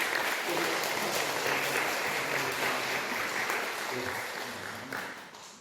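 Steady applause from a crowd fills the room, a dense wash of clapping that holds for several seconds and thins slightly toward the end.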